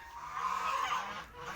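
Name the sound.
hungry geese and ducks honking loudly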